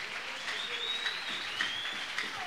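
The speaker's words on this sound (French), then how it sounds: "Applaudissons pour la gloire." A church congregation applauds as a faint, dense patter of clapping, with a thin high tone drifting through it, and no voices.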